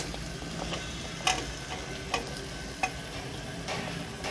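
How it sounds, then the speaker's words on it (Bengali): Chopped ridge gourd being stir-fried in oily masala, a steady low sizzle with a few sharp spatula scrapes and clicks against the pan spaced through it, close and alone with no talking. "আগে ভালো করে আমি এটাকে মশলার সাথে মিশিয়ে নিচ্ছি"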